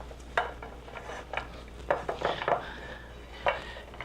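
Butter is rubbed around a baking dish by hand, giving soft smearing and rubbing sounds with a few sharper knocks and scrapes against the dish. The sounds are close and fairly quiet.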